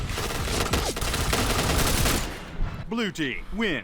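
Rapid automatic gunfire rattles in the shooter game Point Blank, dense bursts that give way to a few sharp shots with whooshing effects, while someone talks over them.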